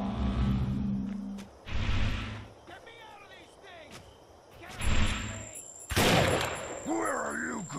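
Gunfire in the PC shooter Defiance 2050: several loud bursts and sharp shots spaced across the scene, mixed with whooshing effects and voices speaking between them.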